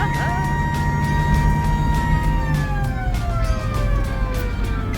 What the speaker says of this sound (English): the driver began the tour with his foot on the pedal and the police siren blaring